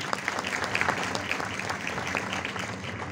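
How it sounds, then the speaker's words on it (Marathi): An audience at an event at Kala Academy, Goa, breaks into steady, full applause for sponsors, crowded clapping sustained at an even level. "या दोन्ही प्रायोजकांचे आपण जोरदार टाळ्या वाजवून आभार मानूया"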